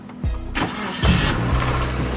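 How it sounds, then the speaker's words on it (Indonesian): A used automatic car with about 108,000 on the odometer cranks and starts, with a short starter whirr followed by the engine catching and settling into a steady idle close by. "Oke, mesin nyala ya."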